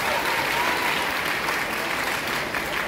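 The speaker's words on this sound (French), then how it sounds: "Je vous invite à applaudir, s'il vous plaît," Audience clapping steadily at a graduation ceremony for a cooking and pastry school, a dense, even wash of applause lasting throughout with no pauses.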